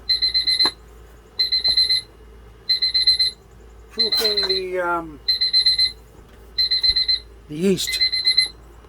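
A kitchen timer alarm sounding while bread dough proofs, loud repeated electronic beeping in evenly spaced bursts, with a person speaking over it partway through.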